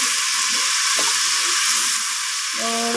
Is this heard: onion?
yes